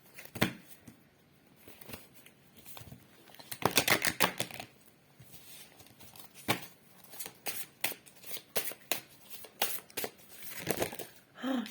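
Tarot cards being shuffled by hand, close crisp riffles and flutters in repeated bursts with softer sliding and tapping between them.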